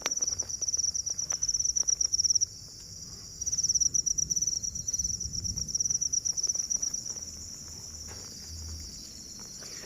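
Crickets raised in an egg-tray enclosure chirp in a dense, steady, high-pitched trill that pauses briefly and resumes, with faint rustling underneath.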